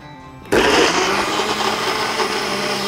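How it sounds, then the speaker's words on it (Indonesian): A blender suddenly kicks on and grinds spice paste for a Javanese curry loudly and steadily, a dense whirring roar close up that continues without pause. "ini siap untuk kita haluskan sekarang"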